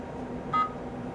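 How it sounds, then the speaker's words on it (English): A laboratory ultracentrifuge gives a single short, clear electronic beep once its rotor comes to a stop, over a steady background hum. "we'll hear a little beep from the machine to tell us"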